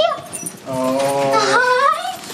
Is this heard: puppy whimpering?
yes